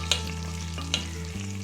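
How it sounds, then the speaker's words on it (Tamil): Raisins fry in hot ghee for kasakasa payasam, a steady close sizzle with a few light stirring scrapes and a low, constant hum beneath. "இப்போ நெய் சூடானோடனே திராட்சையெல்லாம் நல்லா குண்டாகிடுச்சு பாருங்கள். அழகாக பொரிக்குது பாருங்கள்."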